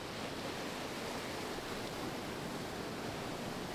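A backcountry creek, crossed in a 4-wheel-drive vehicle, rushes in a dense, steady broadband wash of moving water, close and constant throughout with no voices.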